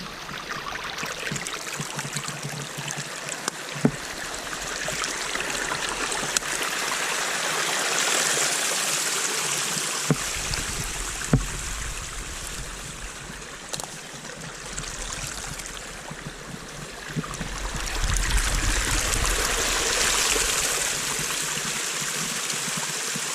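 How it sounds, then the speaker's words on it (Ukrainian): A mountain spring of cold drinking water flows steadily on a hillside hike, a continuous close trickle and gush that swells and eases, with a few brief knocks and no talking. "Дійшли ми до такого джерельця з питною водою."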